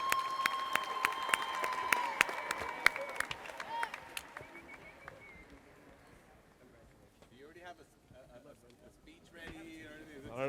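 Audience applause at a softball team celebration starts with sharp, close claps under a loud ringing tone, then thins out as voices and talking take over.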